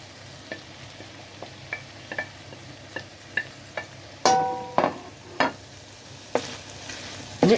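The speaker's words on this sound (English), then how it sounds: "After mixing, I will now add the spring onions." Spring onions being stirred into peppers frying in a pan, a low steady sizzle punctuated by a series of sharp utensil scrapes and clinks, louder toward the end, with no talk.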